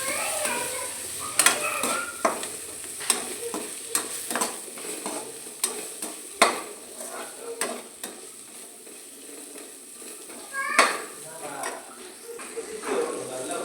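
A crab fry with chili powder is stirred in a pan, giving repeated scraping and clinking strokes at an uneven pace over a soft, steady sizzle.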